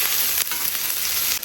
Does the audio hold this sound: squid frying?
yes